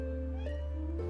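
A cat in the video game Graveyard Keeper meows twice in quick succession, clear and close, over a steady low game hum.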